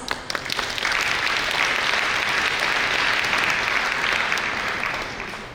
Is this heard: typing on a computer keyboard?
no